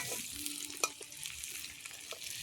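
Onions sautéing in oil in a pan for fish curry, a constant hissing sizzle with light stirring scrapes and one sharp clink from the spoon, no voices.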